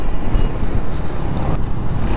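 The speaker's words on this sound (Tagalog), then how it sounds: "pag hinahampas ako ng hangin, malakas ang hangin tingnan nyo." Strong typhoon wind buffets the microphone in loud, continuous gusts, a dense roaring rush with no voice over it.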